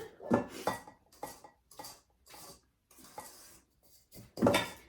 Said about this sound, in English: So I'm stirring this.